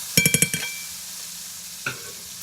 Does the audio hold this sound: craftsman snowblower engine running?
no